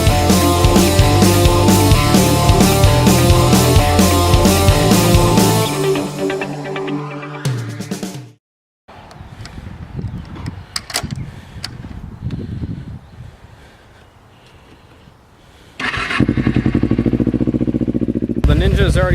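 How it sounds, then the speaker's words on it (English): Kawasaki Ninja and Harley-Davidson motorcycle engines warming up after sitting through winter, a loud steady idle that cuts out midway, then quieter engine rumble with talking before the loud running returns. "The Ninja's already started. It needed to warm up a little bit longer than the Harley"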